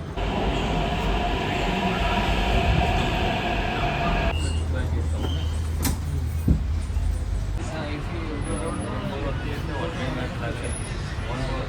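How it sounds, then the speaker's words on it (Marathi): Loud rumbling of a metro train moving past at Nampally station in Hyderabad, with a strong low roar and hiss that eases and changes partway through; a voice talks over it. "माझ्या मागून आता ही गेली मेट्रो ज्याच्यातून मी उतरलो आहे"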